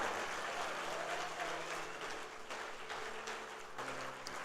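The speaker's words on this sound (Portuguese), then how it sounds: "Pode aplaudir, porque é para Ele." A congregation applauds during a Sunday church service, producing a dense, steady wash of clapping that holds at an even level throughout, with no voice rising above it.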